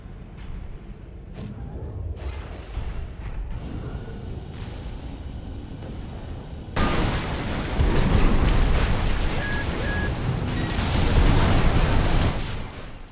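Giant mechs battle in Armored Core 6 with oversized weaponry, heavy explosions and booms building into a dense, loud roar, plus clanking mechanical thuds throughout.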